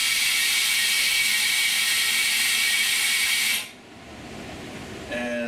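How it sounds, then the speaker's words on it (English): A vacuum pump on an OCA film laminating machine gives a loud, steady broadband hiss and whir for several seconds, then cuts off abruptly, leaving a quieter low hum with faint tonal whines. "Here's the vacuum."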